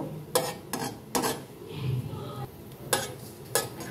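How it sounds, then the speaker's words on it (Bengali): Two dry red chillies fry in hot oil with a soft, faint sizzle, punctuated by several sharp spatula taps and scrapes against the pan at irregular intervals. "তেলটা গরম হয়ে গেছে, এবার এই দুটো শুকনো লঙ্কা দিয়ে দেবো"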